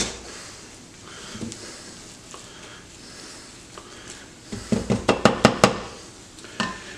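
Spatula scraping and tapping a frying pan while scrambled eggs are stirred and folded, a soft quiet start giving way to a quick run of five or six sharp metallic clinks, then one more near the end.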